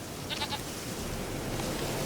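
Goat bleating in The Witcher 3, a short wavering bleat early on over a steady ambient background.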